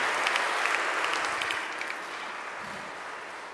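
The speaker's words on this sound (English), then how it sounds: "please, a round of applause" Church congregation applauding at Easter Sunday Mass, a soft, continuous wash of many hands that gradually fades.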